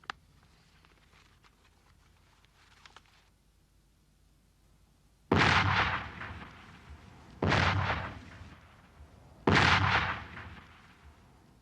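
Artillery high-explosive shells being fired against an enemy dug in at the corner of a wood, heard as three loud, booming blasts spaced about two seconds apart, each ringing out into a long rumbling tail after a quiet stretch.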